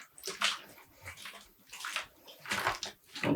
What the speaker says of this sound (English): when we're adding them back in the rinsing tub